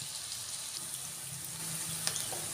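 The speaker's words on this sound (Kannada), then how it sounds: "ಸ್ವಲ್ಪ ಈರುಳ್ಳಿ ರೋಸ್ಟ್ ಆಗಲಿ." Onions roasting in a hot pan for vermicelli upma give off a steady, soft sizzle with faint crackling, close by, with one light clink partway through.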